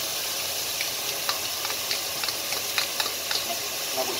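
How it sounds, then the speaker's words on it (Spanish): Garlic sizzles in a pan with vegetables and bacon for Arroz moro, giving a constant, close frying hiss with small irregular pops and crackles throughout. "Incorporamos el ajo con los vegetales."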